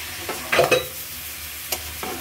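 Vegetables frying in a pan, with a steady background sizzle broken by a few scraping stirs, two of them close together and louder, then lighter taps near the end.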